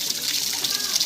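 Spring water pouring from the Paladhara Panchadhara spring near Srisailam, a close, steady rushing gush with a bright splashing hiss.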